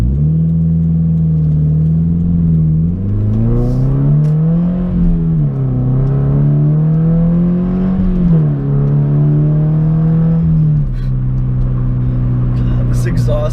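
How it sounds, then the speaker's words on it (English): A Subaru BRZ sports car with a Club Spec 2 exhaust and no silencer accelerates through several gears, its loud exhaust note climbing and dropping with each shift under a continuous engine drone. "give you guys a quick acceleration again. Might as well, because my buddy Club Spec 2 exhaust sounds phenomenal."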